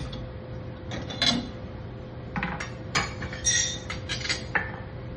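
Roasted urad dal is tipped from a pan onto a plate, bringing several brief metallic clinks and scraping rattles spread across a few seconds over a quiet background hum.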